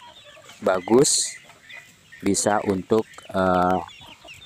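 Free-range village chickens cluck and squawk in short harmonic bursts close by, with someone speaking briefly among them.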